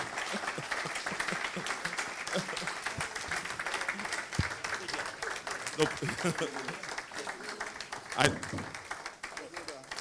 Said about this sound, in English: can we give all our speakers a resounding round of applause?